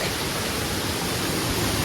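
A waterfall roars as a steady, loud, broadband rush of falling water, close by and unbroken throughout the short moment, with no voices.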